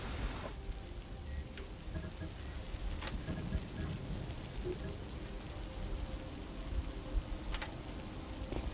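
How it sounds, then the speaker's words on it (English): Steady rain with occasional thunder in the video game Phantom Doctrine, a constant dense hiss throughout with a few brief cracks, fairly quiet overall. "I love the rain."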